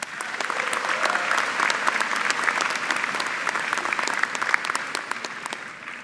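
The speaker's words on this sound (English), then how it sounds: "So give yourselves a round of applause." Graduates at a university engineering school graduation ceremony applaud steadily, a dense wash of many hands clapping evenly for about six seconds without pause.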